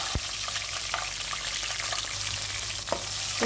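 Green chilies frying in a pan of oil for a soya palak bhurji curry, a steady broadband sizzle with a few sharp stirring clicks, close and continuous, no talk.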